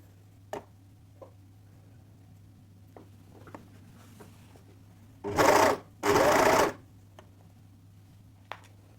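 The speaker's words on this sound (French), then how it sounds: "On vient mettre notre tissu toujours droit sur la surjeteuse." An overlocker serger stitches jersey fabric in two short, loud bursts of rapid whirring, separated by a brief pause, with faint ticks and handling clicks before and after against a quiet hum.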